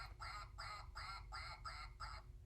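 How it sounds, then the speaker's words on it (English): A duck quacks six times in an even, regular rhythm, each quack clear and nasal, alone over a quiet low background hum. "A duck! Did you guess a duck?"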